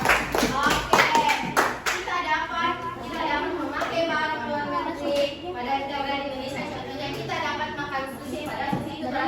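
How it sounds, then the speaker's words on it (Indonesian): Children in a combined-grade classroom clap for a classmate, a quick round of hand claps at the start, then a teacher keeps talking over quieter background noise. "Betul sekali, tepuk tangan untuk temannya."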